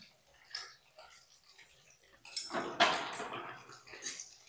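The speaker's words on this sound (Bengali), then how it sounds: "এই মাছটা আমি এবার তুলে নেব।" Quiet metal clinks and scrapes of a spatula in a frying pan as pieces of fried katla fish are lifted out, over soft oily sizzling in a home kitchen, with a voice speaking nearby.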